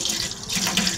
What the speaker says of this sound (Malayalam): ഇനി ഇതിലേക്ക് 3/4 ലിറ്ററോളം വെള്ളം കൂടി ചേർക്കുന്നുണ്ട് കേട്ടോ.